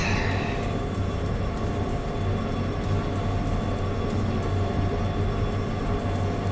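A train rolls along in the VR railway game Derail Valley, hauling tank cars and freight wagons toward a harbor: a steady, loud, rumbling mechanical drone that runs unbroken from start to finish with no voices.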